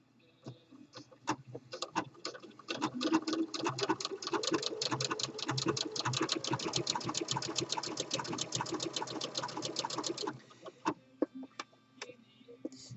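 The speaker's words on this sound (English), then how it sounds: "on fleece, I like to use the triple stretch stitch" A sewing machine runs a triple stretch stitch on fleece, a fast, even mechanical rattle that lasts about eight seconds, starting and ending with a few slower single clicks.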